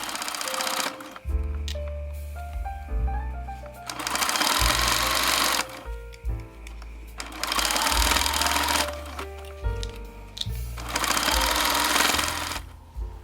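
A sewing machine stitches the waist seam of a reversible skirt at a 1 cm seam allowance. Several loud bursts of steady mechanical whirring are separated by short pauses, with no talking.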